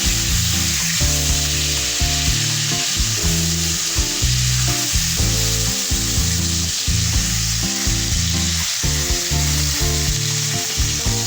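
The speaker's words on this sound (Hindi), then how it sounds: "जो आप ऑयल घर में इस्तेमाल करते हैं उसमें आप इसको इस तरीके के साथ फ्राई करेंगे" Desi chicken pieces sizzle in mustard oil for murgh karahi, a loud, dense, unbroken frying hiss with rapid crackles and spitting. No one speaks.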